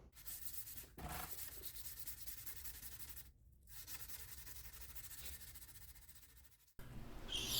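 A copper and Damascus steel knife being hand sanded: close, quiet, continuous rasping back-and-forth strokes with two brief pauses and no talk.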